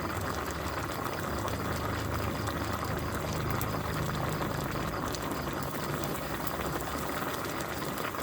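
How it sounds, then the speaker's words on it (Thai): Hot water with leftover cooked rice bubbling and boiling in a pot, a steady dense simmering hiss with a low rumble throughout, close and continuous with no talking. "ข้าวเย็นเหลือก็มาใส่น้ำร้อน"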